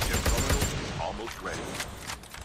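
Thermite rounds fired in the COD Mobile video game make rapid bursts of gunfire that rattle through the first part, mixed with game sounds, while a player talks over the shooting.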